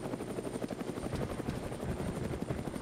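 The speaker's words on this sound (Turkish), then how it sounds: "bu helikopter ne yapıyor?" Helicopter in the military shooter Arma 3 flies steadily and loudly nearby, its rotor thumping in a rapid, continuous pulse with a high whine on top, and no talk over it.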